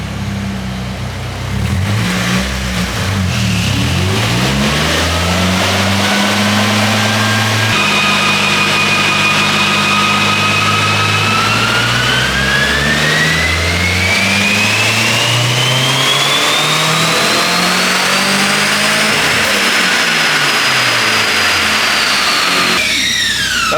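A turbocharged Nissan SR20DE on a dyno idles, blips, then pulls hard through the revs with the wastegate connected, engine pitch climbing steadily under a rising turbo whine before dropping back off throttle. No voices.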